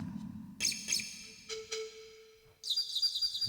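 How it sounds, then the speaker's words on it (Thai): A bird sound effect played from a Casio LK-55 budget electronic keyboard: a few synthetic chirps and a sustained whistling tone, followed by a brighter burst of rapid tweeting, clear and alone with no talking. "เสียงนก"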